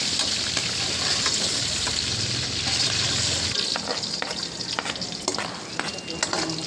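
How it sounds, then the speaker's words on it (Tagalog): Carrots and potatoes frying in a pan for pata caldereta, a dense, steady sizzle that holds loud throughout, with light stirring scrapes and clicks breaking through toward the end. "Pagprito ang ating carrots at patatas para hindi po siya malusdak."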